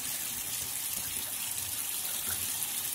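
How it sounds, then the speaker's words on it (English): Running tap water rinses cleaned chitterlings, a steady close gushing splash with no pauses and no talk. "So you're just gonna rinse them, and then they're gonna go in the pot."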